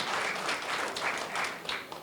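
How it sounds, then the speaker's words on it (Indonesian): Audience applause at a church women's gathering, a dense steady clapping from a crowd that holds at full strength throughout without talk. "itu tepuk tangan dulu dong"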